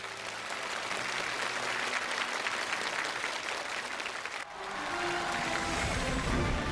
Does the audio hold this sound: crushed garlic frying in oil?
no